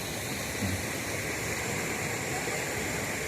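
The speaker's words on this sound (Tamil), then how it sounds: "பின்னாடியே இந்த ஆறு இருக்குதுங்க இது ஒரு சின்ன ஓடை" Small river stream flowing behind the Masani Amman temple, a steady broadband rush of water with no pauses or talk.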